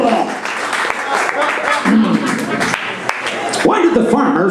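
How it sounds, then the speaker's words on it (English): Applause from a comedy club audience fills the room as a dense, continuous wash of clapping, with voices and cheers mixed in throughout. "let's have a rousing round of applause for Mr. Heath Ledger"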